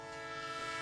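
A train horn blares as a sustained, steady chord, loud and alone in a brief burst.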